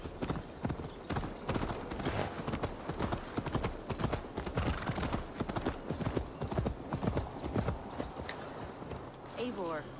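Horse hooves clip-clopping steadily in Assassin's Creed Valhalla, a continuous rhythmic trot close up for the whole stretch, with a brief whinny near the end and speech over it.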